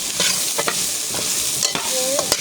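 A spatula scrapes and stirs hilsa fish coated in salt and turmeric in a frying pan, crisp intermittent scraping strokes over a constant close sizzle of hot oil.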